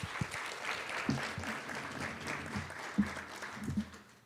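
An audience claps for the presenters at a conference session on opioid settlement funds, giving a dense, steady round of applause with a few sharper claps standing out, loud and close for the whole stretch.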